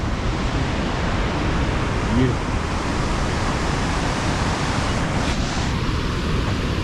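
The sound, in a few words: waterfall and water at a glacier-fed beach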